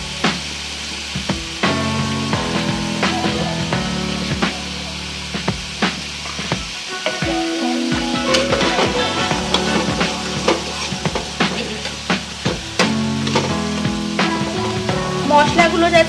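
Spice paste for a fish curry sizzles and spits in hot oil while being stirred and scraped in the pan, with steady frying hiss and frequent sharp clicks of the utensil throughout.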